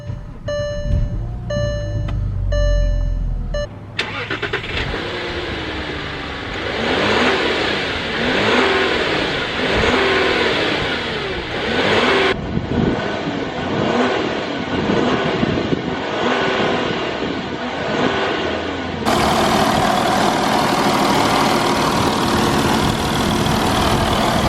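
A high-mileage Volkswagen Touareg TDI diesel engine with 208K miles cranks over and fires up, then settles into a steady, loud, close diesel idle.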